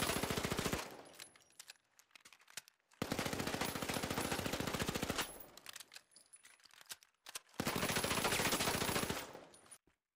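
XP-54 submachine gun firing in the shooter game The Finals: three long, sustained bursts of rapid automatic fire, each lasting about two seconds and separated by short silences, close and clear with no speech.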